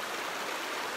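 A shallow river near a campsite in Melbourne, Australia, flows with a constant, close, even rushing babble and no other sounds.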